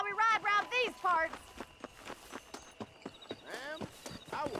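Rhythmic clip-clop of horse hooves from riding in Red Dead Redemption, steady hoofbeats running through the clip beneath a voice talking over them.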